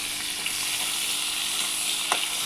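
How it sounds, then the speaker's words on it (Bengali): Fish oil frying in a pan for a Bengali home-cooked dish with potato and eggplant, a continuous bright crackling sizzle with small pops and an occasional sharper spatter, close and steady with no talking. "মাছের তেলটা আমার ভাজা হয়ে গেছে খুব সুন্দর করে লাল লাল করে"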